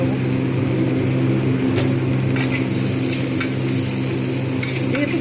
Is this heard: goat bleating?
no